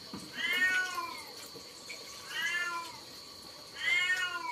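A cat meows three times in a row, fairly close and clear, each call a drawn-out, wavering cry with short pauses between, with no talking.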